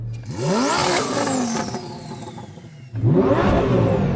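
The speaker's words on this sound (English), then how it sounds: "we're going to do the obligatory CarWow sound check, so I'm going to rev up this Lambo." A Lamborghini engine revs hard twice, each burst climbing sharply in pitch with a turbo whine, then falling away between them. It is loud and close, with no talking over it.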